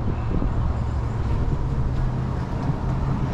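Steady wind buffets the microphone on the slow uphill climb of a summer alpine coaster at Smoky Mountain, a dense constant rumble with low mechanical drone underneath, loud and close throughout.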